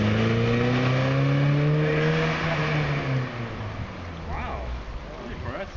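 Car engine with a rare aftermarket exhaust, a loud drone whose pitch rises and then falls away, followed by quieter engine rumble as people talk nearby.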